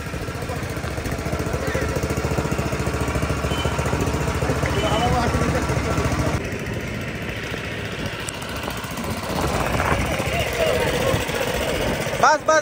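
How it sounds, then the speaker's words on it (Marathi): A mini tractor engine runs steadily after being repaired, a continuous low mechanical drone with an idling quality throughout, near and loud, while people talk over it. "फायनली ट्रॅक्टर चालू झाला आहे"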